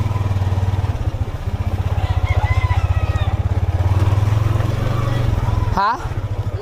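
A motorcycle with a new chain runs close by, its engine putting out a steady rapid pulsing idle with some rise and fall, joined by a brief sharp squeak near the end.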